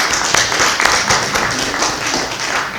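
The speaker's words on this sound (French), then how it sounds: "Merci Anita, qu'on peut applaudir d'ailleurs." An audience applauds a host at a talk held in a synagogue, producing dense, continuous clapping with sharp individual claps standing out, fairly close and loud with no talking.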